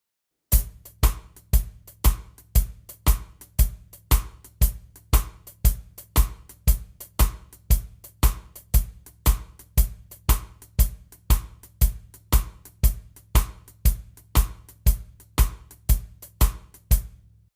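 A drum kit plays a steady shuffle groove: four-on-the-floor bass drum under a shuffled hi-hat and cross-stick clicks, an even, unbroken pattern of sharp hits close up, with no voices.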